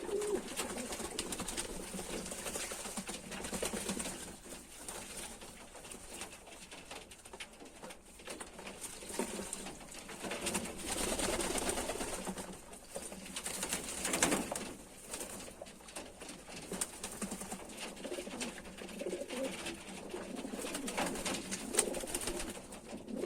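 Several pigeons coo softly and repeatedly in a loft, with low murmuring calls overlapping at a moderate distance against a steady background hiss, plus occasional rustling.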